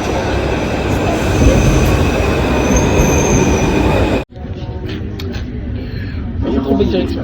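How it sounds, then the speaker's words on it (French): Loud rumble and squeal of a metro train running on rails, then a sudden drop to quieter station ambience with faint rattles and voices. "Là c'est le bon métro."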